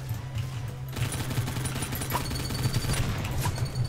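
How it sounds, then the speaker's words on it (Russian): Sustained rapid machine gun fire in the Roblox game Ragdoll Universe rattles on without a break, a dense stream of shots over a low steady drone, loud and close. "Я же стреляю из машин-гана."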